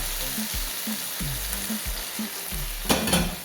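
Jaggery syrup poured over flattened rice and sesame in a pan, roasting with a continuous close sizzle and repeated low scraping strokes, a sharper burst near the end.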